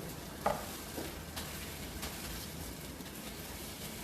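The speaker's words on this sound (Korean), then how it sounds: "지글지글 지글지글" Steady crackling sizzle of chicken drumette tteokbokki frying in a hot Amway Queen pot over high heat, a close, continuous hiss with faint light scraping now and then.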